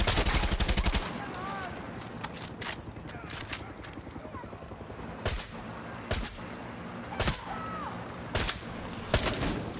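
Sharp, loud gunshots in Far Cry 6 spaced out over several seconds, with a rapid burst at the start and single cracks following at irregular intervals, against a low game ambience.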